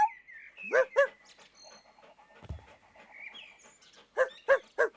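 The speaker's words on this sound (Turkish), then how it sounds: "Köpek sesini insan sesine çeviremiyor." A cartoon dog in a children's animated show barks in short, bright bursts: two quick yaps early on, then three sharp barks close together at the end, with quieter chirpy sounds in between.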